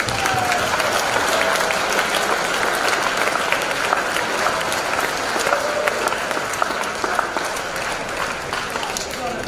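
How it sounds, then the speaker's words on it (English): A hall full of people at an award convocation gathering gives a sustained round of applause, loud and continuous with crowd murmur and voices mixed in throughout. "Can we give them a round of applause?"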